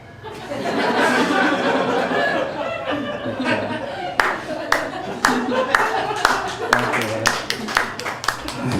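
A few audience members clapping at a comedy show, sparse individual claps with light laughter; after a murmuring start, distinct sharp claps ring out irregularly, close and clear, with chuckles underneath.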